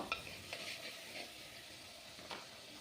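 Tomato masala sautés in a pan for a fish curry: a soft, quiet sizzle runs underneath while a spatula scrapes and stirs in a few short strokes.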